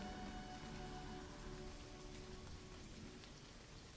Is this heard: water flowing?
no